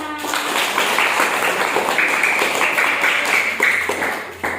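Group of people in a classroom clapping hands together, a loud, dense patter of many claps lasting several seconds with some rhythmic pulses and light voices underneath.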